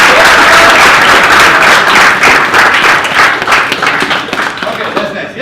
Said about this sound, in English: Round of applause to Prabhat.